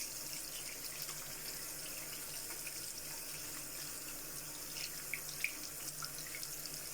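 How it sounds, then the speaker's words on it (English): Tap water running steadily into a sink, rinsing soap off hands, a constant close splashing stream with a few faint drips. "And wash that soap out."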